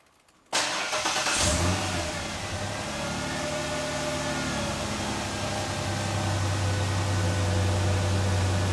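A Ford Ranger engine starts after a brief quiet moment, catching abruptly and settling into a loud, steady running idle with a low hum rising slightly toward the end.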